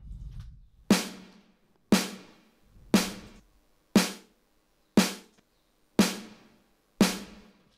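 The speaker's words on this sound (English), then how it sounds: "The main thing that's important about the snare is the reverb." Snare drum with a short reverb in an indie dance track, hit once per second in a steady pattern of eight sharp cracks, each tail decaying before the next, moderately loud and alone.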